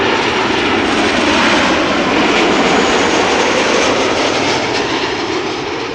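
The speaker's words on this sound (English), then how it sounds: "This is Transavia flight 6820 arriving from Ljubljana in Slovenia." A Transavia passenger jet arriving at Amsterdam Schiphol from Ljubljana fills the air with a loud, continuous engine roar that holds steady and fades only slightly at the end.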